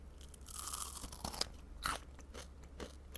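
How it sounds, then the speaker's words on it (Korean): Someone bites into and chews a crisp, dark-chocolate cookie close up, with loud crunches and scraping bites that thin out into quieter chewing. "이거는 쿠키지 자체도 완전 바삭해서"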